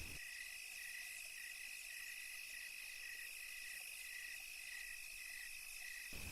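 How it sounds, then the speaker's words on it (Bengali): Crickets chirp at night in a steady, high, continuous trill, with faint insect buzz layered underneath and no voices, carrying through the whole stretch at a moderate, slightly distant level. "ঝিঝি পোকাদের ডাক"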